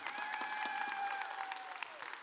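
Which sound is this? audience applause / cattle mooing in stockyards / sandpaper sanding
audience applause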